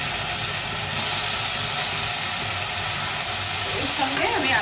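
Lightly fried potato and eggplant are added to hot cooked-down masala in a pan, giving a loud, steady, close sizzle and hiss that fills the whole moment, with a voice speaking over it.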